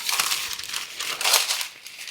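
Parchment paper crinkles and rustles close by as it is pressed into a baking pan, with irregular crackling bursts and one louder crumple partway through, and no voices.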